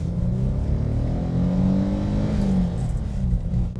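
A Ford Granada Scorpio 4x4 with the 2.8-litre Cologne V6 revs up close by, a steady loud rumbling drone that rises in pitch mid-way and then settles back, sounding somewhat rough.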